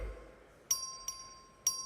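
A voting bell in a House chamber during a record vote: three clear ringing strikes at uneven intervals, each followed by a sustained bright tone over a low room hum.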